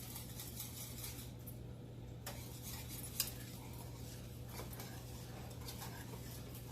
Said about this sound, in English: So just give it a continuous stir